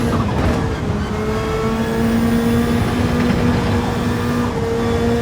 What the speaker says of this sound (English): Subtle nuances and characteristics of the various different cars are clearly audible, such as turbo spool, compressor surge and blow-off valves